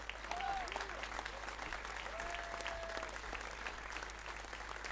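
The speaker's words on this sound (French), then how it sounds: "Je vous demande d'applaudir Arthur Cottrell" An audience at a political rally applauds steadily, a dense continuous clatter of many hands heard from within the crowd at moderate level throughout.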